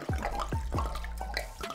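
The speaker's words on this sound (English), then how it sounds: "I'm gonna pour the entire bottle in a pan." Wine pours from a bottle into a pan in short glugging splashes, close and fairly quiet, with a few distinct gurgling bursts over a brief moment.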